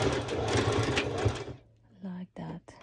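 A sewing machine stitches activewear shorts in a loud, close, continuous run that stops abruptly, followed by a voice speaking.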